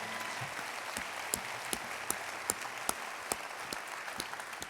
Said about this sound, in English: Can we just clap?